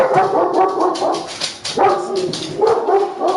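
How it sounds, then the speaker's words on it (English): A German Shepherd barks loudly and close by in a quick run of sharp barks, with a few yips mixed in. "German Shepherd. that's our dog, man."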